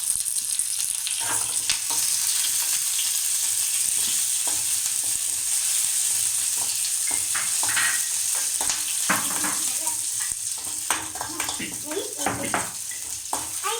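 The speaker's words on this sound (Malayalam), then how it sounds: "നമുക്ക് കരിവേപ്പില ഇട്ട് കൊടുക്കാം" Curry leaves sizzle and crackle in hot oil for a ginger mango pickle, a continuous close frying hiss with stirring clicks and pops, and a voice is heard faintly underneath.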